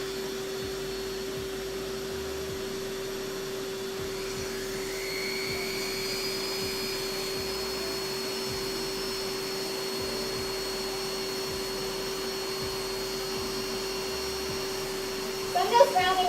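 A vacuum or extractor fitted with a guard runs steadily at a crafting bench, sucking up foam scraps from a cosplay build, a constant whirring drone with a steady hum, with a brief clatter near the end.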